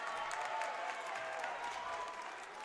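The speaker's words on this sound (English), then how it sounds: "Great to hear the crowd getting into it again." A crowd at a Casper College versus Northeastern JC basketball game applauds steadily throughout, a distant, fairly faint patter of clapping with light crowd murmur.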